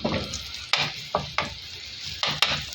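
Leftover food sizzles and fries in a pan while a utensil stirs it, scraping in sharp, repeated strokes every half second or so.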